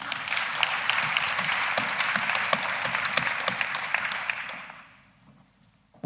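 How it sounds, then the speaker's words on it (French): A conference audience in an amphitheatre applauds steadily as a young girl comes onto the stage, a dense, sustained patter that dies away near the end into quiet. "Applaudissez-la aussi."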